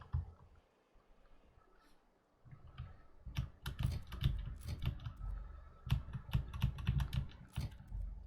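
Computer keyboard keys pressed rapidly while gaming, a dense run of close, crisp clicks in irregular bursts after a quieter start, with no talking.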